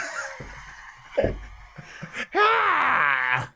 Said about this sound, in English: the scream that doomed Howard Dean